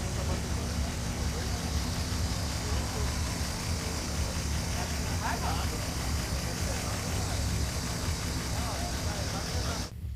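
A Puma car's engine idles in cold weather, a steady, unbroken low drone with a constant rumbling texture throughout, faint voices underneath.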